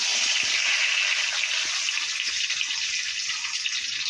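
Cumin seeds and a bay leaf temper in hot oil, giving a steady, bright sizzling hiss with faint crackles that runs evenly from start to finish, fairly quiet and close, with no talking.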